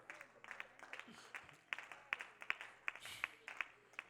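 A church congregation claps in a loose, mechanical rhythm, a string of sharp claps repeating roughly every half second, fairly faint and set against room noise and some voices.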